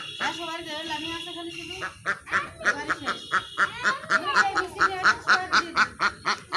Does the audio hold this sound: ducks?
yes